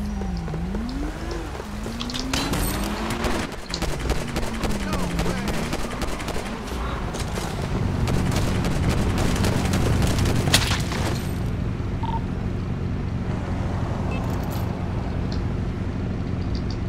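Gunfire in a FiveM shootout crackles as dense, rapid bursts of shots over a vehicle engine and rolling rumble, loud and close, with occasional siren-like wails.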